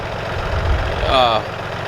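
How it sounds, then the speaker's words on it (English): A garden tiller runs close by as it works a garden bed, a continuous rough engine drone with churning noise that swells briefly before easing. "let's run over it one more time with the tiller a little bit faster"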